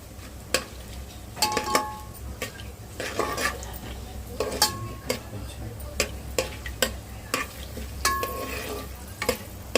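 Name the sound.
ingredients being mixed into hot oil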